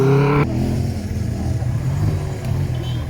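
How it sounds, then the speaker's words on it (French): A broom wagon car pulls in at a junior cycling race, its engine revving loudly up close at first, then settling into a steady idle rumble with faint background crowd noise. "La voiture balai est là avec 2 coureurs qui ont abandonné."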